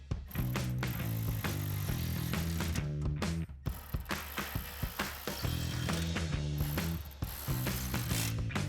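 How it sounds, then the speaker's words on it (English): Ratchet with a 4mm Allen socket tightening bolts on a steel front bumper for a 2007-2013 Silverado 1500, rapid clicking bursts with short pauses between strokes, close and clear with no talking. "take your 4mm Allen socket and tighten these down"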